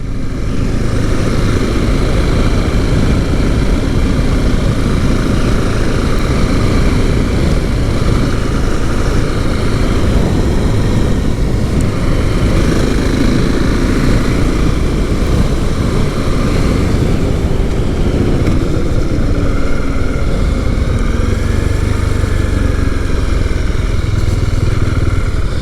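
Husqvarna Svartpilen 701 motorcycle being ridden on the road, its engine droning loud and steady throughout with heavy wind rush, a continuous close onboard roar with slight shifts in pitch as speed changes.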